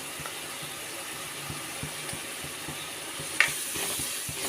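Fish curry masala with coriander powder sautés in a pan, a low, even sizzle under regular soft scraping taps of a stirring spoon, with one sharper clink near the end.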